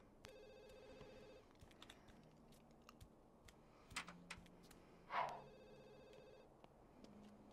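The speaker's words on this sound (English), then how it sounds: "Oh, the phone's ringing." Telephone ringing in The Sims 2 video game, repeated electronic ring tones at a steady rhythm, soft and under light game clicks and background sounds.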